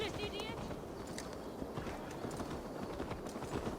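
Video game horse hooves clip-clop at a quick, steady pace over a busy background of ambient noise, fairly faint and mid-distance.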